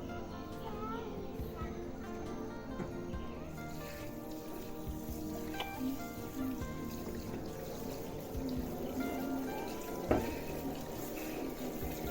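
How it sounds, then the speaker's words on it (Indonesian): Water runs continuously from a tap during handwashing with soap at a newborn examination, a faint steady splashing with occasional clinks, while a voice talks over it throughout. "mencuci tangan dengan sabun dan air mengalir"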